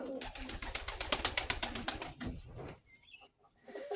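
Pigeons nearby make a rapid, rhythmic fluttering burst, then things go quiet apart from a few soft calls.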